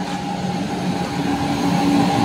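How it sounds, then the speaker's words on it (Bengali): The 13152 Jammu Tawi–Kolkata Express, hauled by a Gomoh shed WAP7 electric locomotive, rolls in at a station platform with a loud, continuous rail rumble and a steady hum that builds slightly. "চলে আসছে আমাদের ট্রেন 13-152 জম্মুতাওয়াই কলকাতা এক্সপ্রেস"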